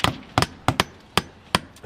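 Sharp hammer blows drive nails during a window installation, sounding as close, loud impacts in irregular pairs and single strikes, with quiet gaps between them.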